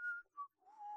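A person whistles a short tune in three brief clear notes, the middle one shortest, alone and fairly quiet, as part of a mock album advert.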